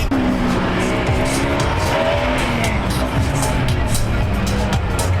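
Race car number 62 at the Sadala hillclimb powers up the course, its engine note rising through gears and wavering with tyre scrub, loud and continuous with a crowd voice underneath.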